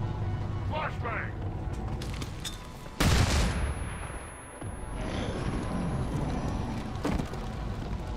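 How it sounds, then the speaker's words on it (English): A flashbang grenade goes off in XCOM 2 with one sudden loud crack and a high ringing tone that fades over a few seconds, after brief talk and alongside ongoing combat noise. "Flashbang!"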